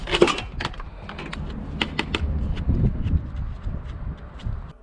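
Plastic cable trunking being cut to length outdoors, giving a series of sharp, irregular clicking and snapping cracks over a low rustling rumble, fairly close and moderately loud with no talking.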